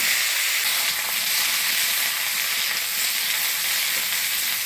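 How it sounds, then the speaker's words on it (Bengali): Cut drumstick stems and potato pieces hit hot oil already tempered with dried chilli and whole cumin, producing a loud, continuous close-up sizzle and hiss that stays steady throughout. "এবার কাইটে রাখা ডাঁটা আলু দিয়ে দেবো।"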